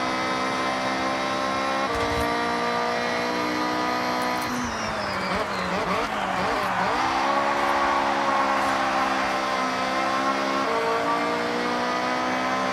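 A race car engine in Forza Horizon 6 drones loud and constant, drops in pitch as it brakes into a sharp corner, then climbs again under acceleration. No one speaks.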